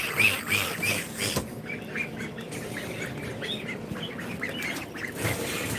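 Baby ducklings in a brooder give a busy stream of high peeps and chirps, a dense overlapping chorus close by, with a brief sharp knock partway through.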